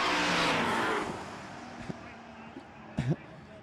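A roll racing event: race cars roar loudly past at the start, then fade into the distance, followed by brief distant engine blips and bursts while a commentator talks.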